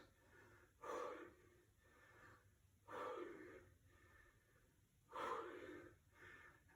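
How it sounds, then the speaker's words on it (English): Three forceful breaths out during a pressing exercise in a workout, spaced roughly two seconds apart, each a short breathy whoosh with no talk. "Exhale as you press."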